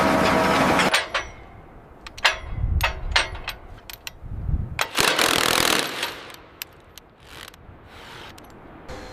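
Bursts of rapid, loud rock drilling on a mountain cliff highway build site start and stop, hammering harshly with short pauses between runs.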